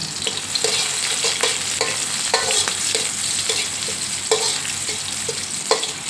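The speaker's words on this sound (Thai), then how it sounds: "เจียวกระเทียมกับพริกให้หอมก่อน" Chopped garlic and chili sizzle in hot oil in a pan for a stir-fry of glass noodles, cabbage and egg. A steady close hiss runs throughout, broken by regular scraping strokes of stirring.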